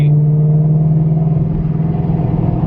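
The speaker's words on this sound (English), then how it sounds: "Just get a feel for the exhaust and how it sounds." Chevrolet Camaro fifth generation fitted with headers, its exhaust droning loud and close while driving, a strong steady engine hum with a deeper rumble rising partway through, no voices.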